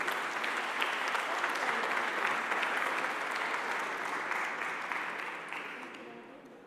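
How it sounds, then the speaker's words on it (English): Conference audience applauding at an African global-change summit: a sustained, even wash of many hands clapping that gradually fades toward the end, no talking over it. "please join us in applauding everyone who are going to be shepherding this"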